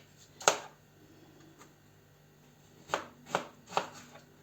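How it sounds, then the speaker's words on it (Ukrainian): A knife chopping overgrown cucumbers into small cubes on a board: one sharp chop, a pause, then three more crisp chops in quick succession, close and fairly quiet. "І ріжемо на отакі невеликі ну, кубики."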